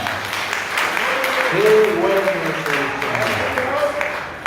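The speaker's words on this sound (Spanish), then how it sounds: "Démosle un aplauso de bienvenida a la hermana." A church congregation applauding to welcome a sister, steady moderate clapping from a crowd throughout, with a voice speaking over it.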